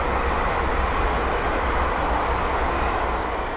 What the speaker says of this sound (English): the next train to pass by is a pair up London Western Railway Class 350s